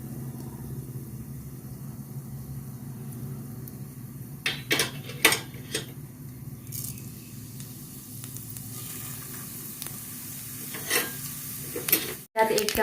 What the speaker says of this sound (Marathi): मोहरी तडतडली की जिरे टाकायचे।